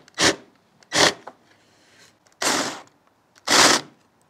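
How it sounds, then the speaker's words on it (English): Four short, sharp grinding bursts of a countersink bit cutting into pine wood, evenly spaced with quiet gaps between. "Now we want to countersink this a little bit."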